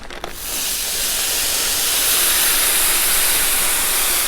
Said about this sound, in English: Now you're gonna get a lot more steam when it's still kind of frozen a little bit